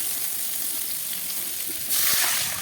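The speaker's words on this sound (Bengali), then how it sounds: "তো পেঁয়াজ, টমেটো সমস্ত কিছুটা এবারে ভালো করে আমি ভেজে নেব।" Chopped onion and tomato sizzle steadily in hot oil in a pan, a continuous close hiss that swells louder near the end, with no talking.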